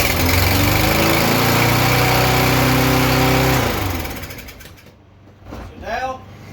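A Yard Machines lawnmower engine runs loud and steady with a droning hum, then slows and dies off, followed by a faint sputter as it tries to catch again.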